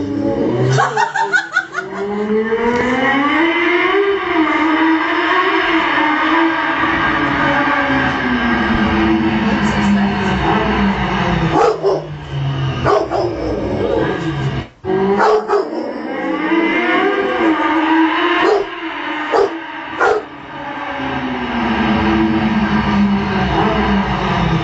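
A Rottweiler howls long and loud in response to the sound of a motorbike, with sustained wavering tones and brief breaks throughout, close by.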